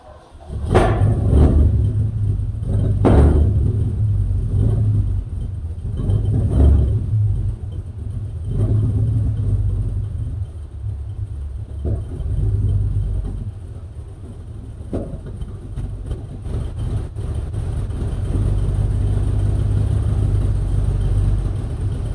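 A car engine fires over on a cold, snowy day and settles into a smooth, steady idle, close and fairly loud, with a few sharp knocks and blips early on.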